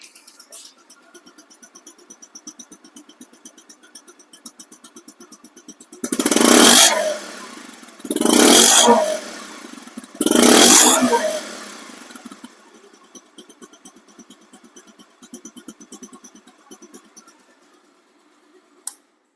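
A 2021 Bajaj Pulsar disc-brake motorcycle engine idles steadily, then revs hard three times in quick succession, each roar rising and falling before settling back to a ticking idle.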